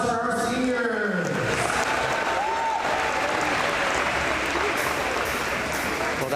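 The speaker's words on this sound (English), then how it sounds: "One more round of applause for our seniors." A crowd applauds and cheers in a gym for senior athletes during a ceremony, a steady loud wash of clapping with a voice and tonal sounds over it at the start.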